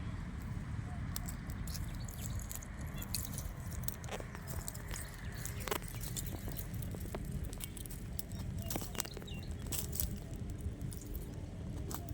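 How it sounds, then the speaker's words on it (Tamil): Rain falls steadily outdoors in a windy village where fish is being roasted over an open fire, a dense, continuous patter with scattered sharper drips throughout. "நல்ல மழை மழை பிடிக்குது"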